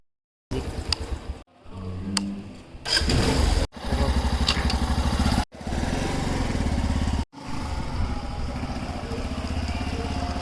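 A motorcycle brought outside is started close by: the engine cranks and catches several times, roaring in loud bursts that cut out briefly before revving again into a steady, buzzing run.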